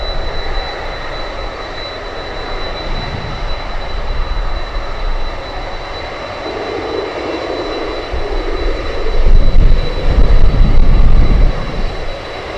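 A Boeing 747 Dreamlifter taxiing on the runway in Anchorage, its engines a steady, broad roar heard from a distance, swelling louder near the end as the aircraft passes closer.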